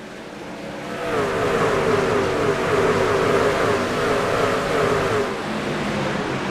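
Race trucks in the iRacing truck series at Darlington roar as they accelerate at the green flag, a dense, rising engine drone that swells quickly and holds loud and steady as a pack, with no talking.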